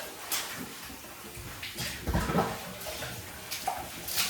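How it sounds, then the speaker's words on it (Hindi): Water runs out during a deep cleaning of a home kitchen, coming as irregular gushing and splashing bursts over a low background wash, fairly close, with no clear talking. "ये देखो कितना कितना पानी निकल रहा है बाहर।"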